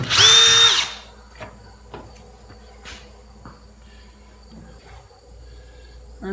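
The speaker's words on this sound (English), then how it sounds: "we'll drill a small pilot hole and test it" A power drill boring a small pilot hole into a King Kutter brush hog blade, a loud high whine in the first second that stops abruptly, then quiet ticks and scrapes of metal handling.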